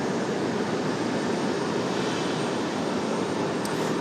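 A Delta airliner lining up on runway 23 right, a steady broadband jet engine roar holding at an even, fairly loud level with no distinct changes, no voices.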